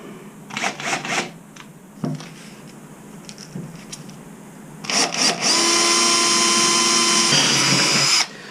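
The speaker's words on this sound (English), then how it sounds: "just going to drill a couple of holes here." Short bursts of a power drill whir and stop, then a long, loud, steady high-pitched run drilling holes in G10 for a fuel tank base, cutting off abruptly.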